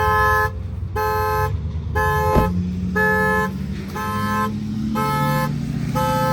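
A car horn honks in repeated long blasts with short gaps, loud and close, like an alarm, with an engine rumbling underneath.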